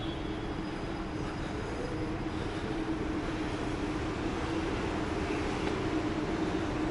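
A train rolls into Blackfriars Station in London, a steady low rumble and rail roar that holds evenly throughout, heard from the back streets nearby.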